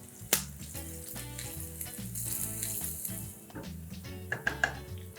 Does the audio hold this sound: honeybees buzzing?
no